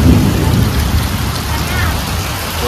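Heavy monsoon rain pours down over a Konkan village, a loud, dense, unbroken roar with low rumbling thunder mixed in throughout.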